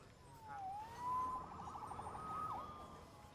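A video game police siren wails at a moderate distance, its pitch rising and falling over a low rumbling background.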